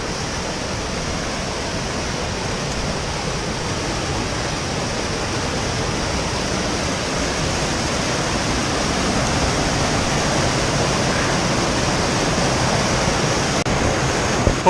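Fast-flowing river water rushing steadily and loudly, a dense broadband roar that fills the whole stretch without pause or break.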